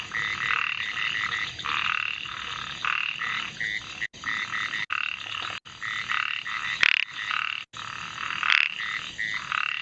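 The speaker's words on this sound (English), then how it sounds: "These are called narrow-mouthed frogs from India." Narrow-mouthed frogs of the family Microhylidae in India call persistently, with dense overlapping croaks forming a loud, near chorus that pulses unevenly throughout and is broken by a few abrupt dropouts.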